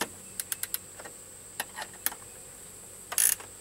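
A ratchet wrench with a 13 mm socket snugs down bolts while installing an Empi shifter on a vintage Volkswagen. Short bursts of sharp clicks come close up in a quiet setting, followed by a brief louder rattle near the end.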